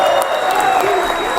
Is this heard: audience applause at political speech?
yes